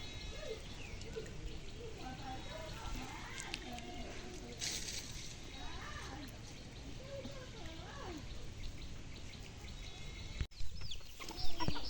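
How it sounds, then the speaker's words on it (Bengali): Chickens cluck and murmur in a busy outdoor scene, with a person talking over them and a sharp knock near the end. "এখানে দেখতেছি অনেক মুরগ মুরগি বেশ ভালোই স্বাস্থ্যবান দেখতেছি"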